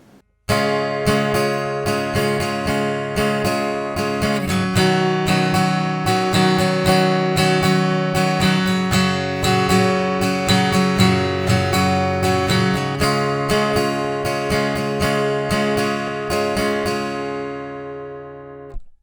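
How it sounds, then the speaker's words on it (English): Steady acoustic guitar strumming of full chords in a driving rhythmic pattern, bright and close, continuing without voices for the whole stretch. "we're going to put that strumming pattern on it"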